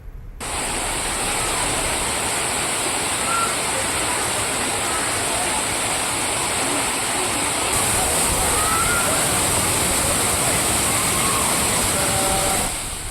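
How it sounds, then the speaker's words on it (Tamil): Thirparappu waterfall pours heavily while tourists bathe beneath it, a loud unbroken roar of falling water with a faint voice or two lost in the rush. "ஆர்ப்பரித்து கொட்டும் அருவி நீரில் நீராடி மகிழ்ந்து வருகின்றனர்"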